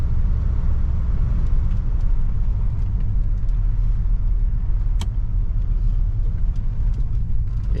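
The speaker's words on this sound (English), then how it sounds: "I'm gonna hit like kind of a dead stop here" A 1971 Cadillac Deville rolls to a stop on a test drive, a loud, steady low rumble of engine and road noise filling the cabin, with one faint click partway through and no sharp brake squeal.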